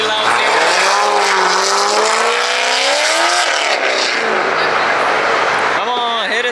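A loud sports car accelerates hard through the gears at a car meet in a park, its rising engine roar close and dominant, with a brief gear change before the revs climb again at the end; onlookers speak over it.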